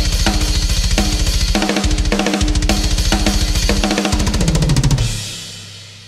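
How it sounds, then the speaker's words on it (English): Programmed metal drum part at 210 BPM played back with the GGD Invasion drum library in Cubase, with rapid double-kick runs, crashing cymbals and stiff machine-like snare fills, loud and alone, ending on a ringing decay. "I have a little drum part here. The tempo is 210 BPM."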